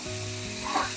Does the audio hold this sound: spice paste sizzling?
yes